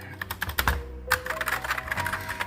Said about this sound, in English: Make this thing light up as I'm pressing keys and doing other crazy stuff